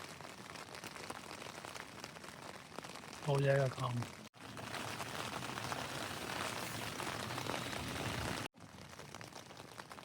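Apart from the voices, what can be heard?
heavy rain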